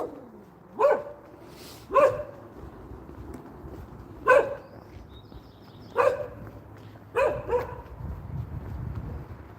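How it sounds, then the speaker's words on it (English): A dog on a spring walk gives five separate barks spaced about a second or two apart. The barks are moderately close and stand out against quiet outdoor background noise, with no speech. "Look at the dog."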